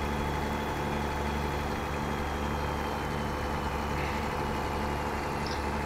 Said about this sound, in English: This truck's pretty loud.